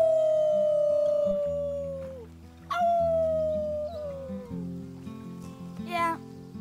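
Kids in Life is Strange 2 doing a team howl, voices imitating wolves with long sliding howls one after another, then a quick run of short yips near the end.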